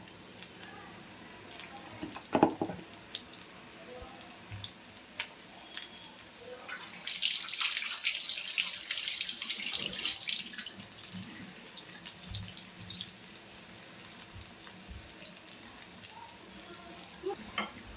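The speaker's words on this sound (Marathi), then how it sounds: "जरा ब्राऊन ह्यापर्यंत छान तळून घेऊ आपण." Sweet corn pakoda frying in hot oil in a home kitchen, a faint steady sizzle that swells into a louder burst of bubbling crackle midway before settling back to a quiet hiss with light clinks.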